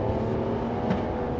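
A 2026 Ram 1500 Rebel pickup truck accelerates hard, its engine giving a steady, loud, close-up drone from inside the cab.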